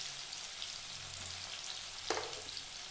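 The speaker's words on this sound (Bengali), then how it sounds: "এই পেঁয়াজটা ভাজা হচ্ছে" Chopped onions with crushed garlic and green chillies fry in oil left from frying potatoes for biryani, a faint, even sizzle with one short clink of a utensil partway through.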